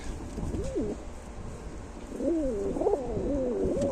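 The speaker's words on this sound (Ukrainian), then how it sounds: "ці голуби дійсно можуть літати більше 20 годин" Ukrainian high-flying pigeons coo softly nearby, one brief call followed by a run of repeated warbling coos against quiet background noise.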